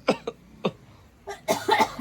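A person at home coughs several times. Two quick coughs come first, then a single cough, then a louder cluster of harsher coughs, all close and clear.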